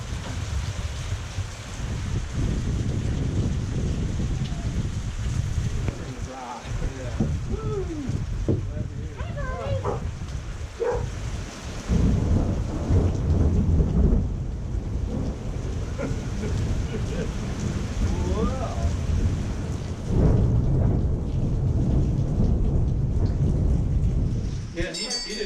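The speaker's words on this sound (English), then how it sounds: "It's starting to really rain now." Heavy rain pours down steadily with low rumbles of thunder rolling through during a January backpacking trip in Tennessee's Big South Fork area, a continuous loud wash of weather with people talking intermittently underneath.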